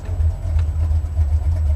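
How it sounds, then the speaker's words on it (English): A Buick 455 Stage-1 V8 in a Regal-T idles at 900 RPM, a deep, steady, throbbing low rumble that holds constant from start to finish with nothing else over it. "The drive motor is idling at 900 RPM with 7 inches of vacuum."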